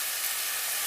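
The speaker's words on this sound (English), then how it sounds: "Here I have like a large clove of garlic that I minced or diced or chopped going in. We're gonna saute." Minced garlic sautéing in a pan makes a brief, faint, even sizzle with no pauses and no voices.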